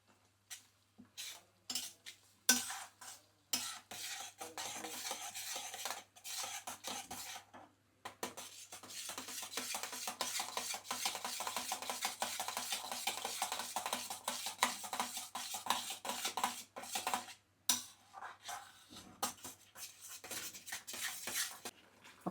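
A spoon scrapes and clatters against a pan as green tomato chutney cooks, in repeated stirring strokes with short pauses, fairly quiet and close.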